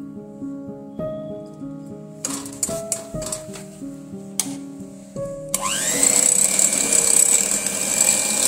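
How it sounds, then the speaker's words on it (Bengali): After some light clinks and tonal knocks, an electric blender blending separated egg yolks from four eggs starts up and runs as a steady, loud whir to the end. "প্রথমে এটাকে একটু ব্লেন্ড করে নেব।"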